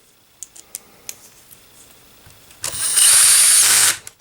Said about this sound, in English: We'll put the T20 on. And we'll put those 3 screws in.